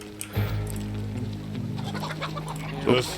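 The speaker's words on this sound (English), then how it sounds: "I alerted a chicken, be careful about that." Chicken clucking in the video game Desperados III, a few short startled clucks near the start and end over low ambient game sound and soft background tones.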